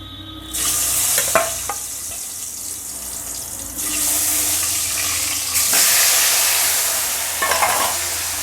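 Bright sizzling of egg and potato frying in a pan, swelling louder as pieces are stirred, with occasional scrapes and clinks.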